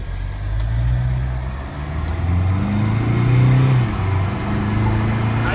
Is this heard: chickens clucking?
no